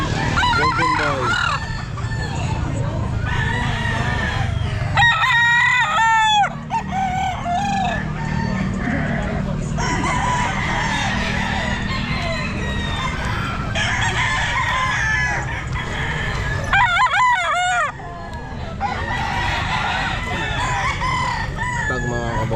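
Several Golden Boy stag roosters crow again and again at a pet market, loud near crows around the fifth and seventeenth seconds with other birds clucking and crowing farther off, all over a constant crowd hum and scattered talk.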